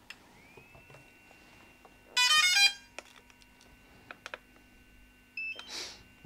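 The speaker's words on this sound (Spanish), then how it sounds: "lo que tenemos que hacer es poner en marcha nuestro dron" A DJI Phantom 3 drone powering up at ground level for maintenance checks: a steady faint tone, then a short bright melodic startup chime, a few soft ticks and a closing pair of beeps, with no rotor noise.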